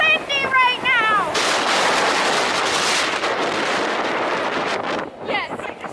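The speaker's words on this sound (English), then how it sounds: "it's really windy right now" Strong wind buffets an outdoor microphone in Boston, a loud, continuous rumbling roar lasting several seconds, with a brief voice at the start and easing slightly near the end.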